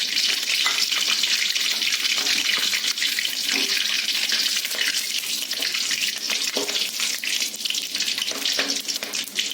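Cinnamon, cloves and fennel seeds spitting in hot oil in a kadai while potato stir-fry is cooked, giving a bright, continuous crackling hiss with small irregular pops throughout.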